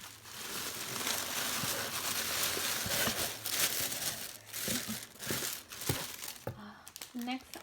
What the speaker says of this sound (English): I'm going to wrap it up in some bubble tape